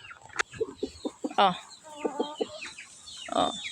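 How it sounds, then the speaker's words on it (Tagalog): Several chickens cluck close by in short, irregular bursts, with a few louder squawks mixed in. "Pero kinakain din to ng mga manok eh."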